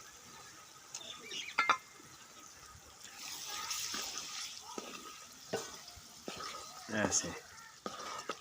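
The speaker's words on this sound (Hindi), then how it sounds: "इस वक्त कलेजी डालेंगे ऐसे, और अच्छी तरह इसको फ्राई करेंगे।" Liver (kaleji) is stirred and fried in a pan, giving wet sizzling and scraping bursts at irregular intervals, fairly quiet, while a person speaks in Hindi over it.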